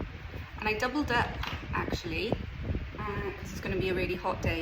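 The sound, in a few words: dogs barking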